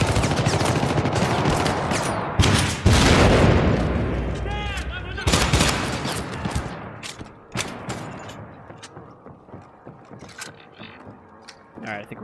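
Gunfire from the video game Syndicate erupts in loud, dense bursts of rapid shots and blasts, then thins into scattered, fainter shots and impacts.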